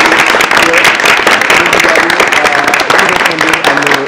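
An audience applauds for the musician, a dense, steady wash of clapping lasting several seconds, with voices and tonal sounds mixed in underneath.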